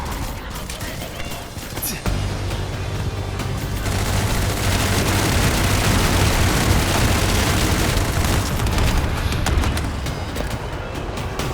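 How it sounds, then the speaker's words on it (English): A drone explosion in The First Descendant video game, a loud sustained boom with rumbling blast and gunfire-like crackle that fills most of the stretch alongside game sound. "Drone explosion."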